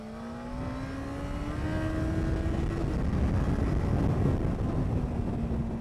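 A motorcycle accelerating out of a long bend on a winding mountain road, the engine note rising steadily in pitch as it pulls away, loud and close with wind noise underneath.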